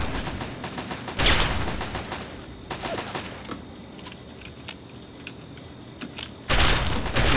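Gunfire in Fallout 3: a couple of loud, broad bursts of shots stand out, one early and one near the end, with sparse clicks and mechanical ticks in the quieter stretch between them.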